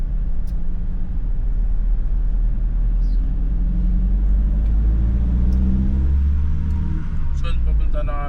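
A car drives through traffic in Taguig, with a steady, heavy low engine and road rumble throughout and faint, muffled voices in the cabin.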